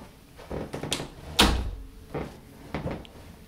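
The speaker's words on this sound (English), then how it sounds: "make sure that you close your room door." A room door is pulled shut indoors, landing as one firm thump that stands out above fainter knocks and rustles, close by and fairly quiet overall.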